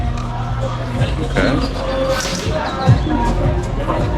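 Crowd of tourists at a busy Thai market: a steady murmur of voices and shuffling footsteps with scattered knocks and thuds, and a nearby voice speaking briefly over it.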